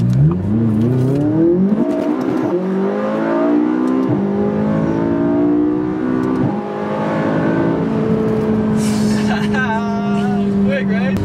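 Purple McLaren sports car accelerating hard, its engine note climbing through rising revs with a gear change midway, loud and close from inside the car, with a voice briefly over it.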